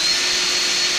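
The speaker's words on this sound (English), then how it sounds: "What I do is I actually use a brush like this on a drill." A wire brush spun on a power drill, sanding oxidation and rust off metal pin extensions during tune-up maintenance, makes a steady, loud whirring hiss throughout the short moment with no talk.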